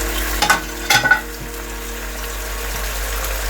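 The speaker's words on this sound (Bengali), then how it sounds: "ভালো মতো নেড়ে দিচ্ছে।" Duck meat frying with ground cumin, nutmeg, mace, garam masala and coconut powder, stirred in a pan: two bursts of scraping and clatter over a steady low sizzle, then quieter continuous frying.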